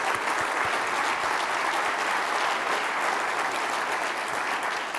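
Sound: audience applause

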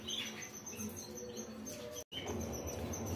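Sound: canaries chirping in breeding cage

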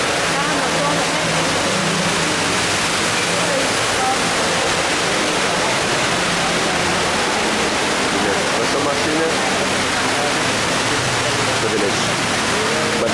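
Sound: waterfall

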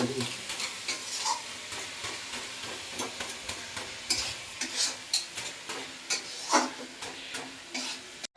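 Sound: lentil fritters frying in oil

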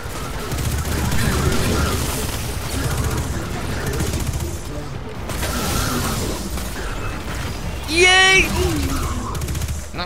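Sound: submachine gun firing in the video game Destiny 2 Forsaken

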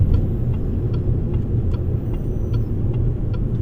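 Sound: car overtaking on the road

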